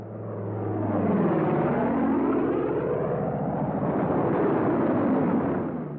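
WWII P-47 Thunderbolt fighter planes roar past low in a steady, loud, continuous drone that swells and holds for several seconds, with no voices over it.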